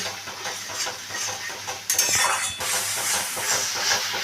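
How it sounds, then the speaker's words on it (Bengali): Spice paste sautés in oil for a pomfret fish curry, a steady sizzle with rhythmic spatula scraping and stirring, flaring into a brighter hiss partway through. "মশলার সাথে আমি কিন্তু যতক্ষণ তেল না ছাড়বে ততক্ষণ আমি মশলাটাকে ভালো করে কষিয়ে নিচ্ছি"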